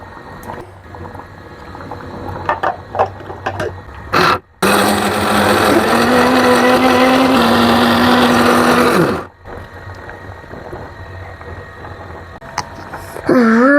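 A kitchen mixer grinder whirs loudly as it grinds boiled legumes with salt and water, starting after a few brief clanks and handling sounds, running with a strained, rising pitch for about five seconds, then stopping abruptly before quieter rattles.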